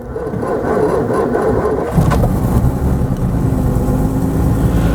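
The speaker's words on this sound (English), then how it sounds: "When she fires, I'm going to knock the throttle back straight away because I don't want the engine roaring away with cold oil." A cold 1949 Bentley engine cranks and fires at about two seconds, then settles into a steady, loud running idle that continues to the end.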